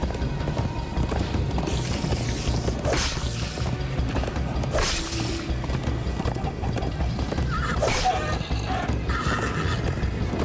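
Galloping horse hooves pound continuously in the Minecraft Story Mode video game, with whooshing swipes and a neigh cutting through the dense, loud action mix.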